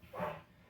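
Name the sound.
dogs barking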